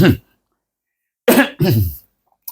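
A brief cough at the start, then after a pause two harsh, close coughs in quick succession, loud and alone without talk.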